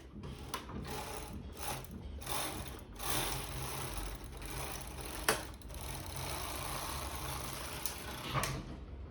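A knitting machine carriage slides across the needle bed with a continuous ratcheting, clattering rasp that stays steady and fairly faint for several seconds, broken by a few sharp clicks.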